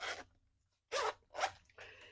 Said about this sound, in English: So you open that side and you have a little coin zipper pocket and 2 slip pockets.